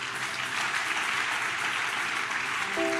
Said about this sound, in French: Maintenant, acclame et je vais commencer.